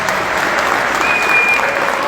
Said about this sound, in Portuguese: palmas para as tias do Zap